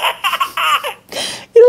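Recorded toy laughter of a baby from a bouncy cardboard sound board book with moving eyes: several quick giggling bursts, fairly loud and close, followed by a short electronic tone.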